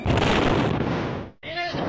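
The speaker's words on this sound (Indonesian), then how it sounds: "Pertamina meledak 2 kali." Blast at a Pertamina oil refinery, a loud rumbling boom that rolls and fades, briefly drops out, then returns with a noisy, chaotic tail and faint tonal sounds.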